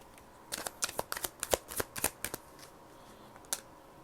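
Prism Oracle cards being shuffled, a run of about a dozen quick crisp riffling snaps packed into two seconds, then a pause and one last snap, close and alone with no talk.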